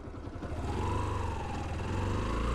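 A Yamaha YBR 125 motorcycle engine hums steadily while being ridden, a close, continuous mid-pitched drone with slight revving and wind, no voices.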